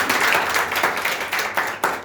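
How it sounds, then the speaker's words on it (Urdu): A church congregation gives loud applause, a dense, steady wash of many hands clapping close by with a few sharper claps standing out. "زوردار تالیاں"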